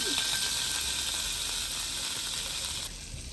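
Mustard seeds in hot oil give a close, continuous hissing sizzle with faint crackles, cooking for a Tamil Spanish dhal curry; the sizzle drops off sharply near the end.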